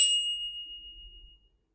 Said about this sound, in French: nous allons faire un petit coup de cloche